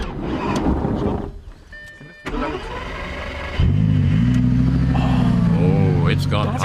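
A Lamborghini Gallardo engine starts up and rises into a loud, steady rev as throttle is applied, a strong low drone filling the second half while people talk over it earlier.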